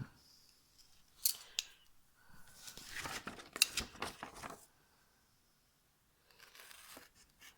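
Scissors cut through craft paper or card along a marked line while a storage box is being made, giving a few crisp snips and then a longer burst of cutting and rustling, close and fairly quiet, with no talking.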